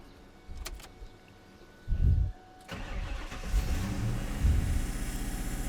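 A built Ford Mustang 5.0 with an air leak starts up: a short cranking burst, then the engine catches and settles into a steady, close rumbling idle with slight surges.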